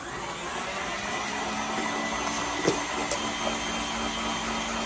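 An electric grain mill grinds hard red winter wheat berries for homemade bread, a steady, even motor whine droning throughout at moderate level with a couple of faint knocks partway through.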